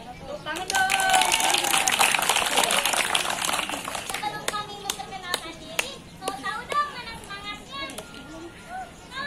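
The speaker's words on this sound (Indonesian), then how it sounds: "Tepuk tangan dong." An audience of young blood-donation volunteers at a school Red Cross outreach contest claps loudly for several seconds, then the clapping thins into scattered, sharper individual claps and taps while voices and chatter carry on underneath.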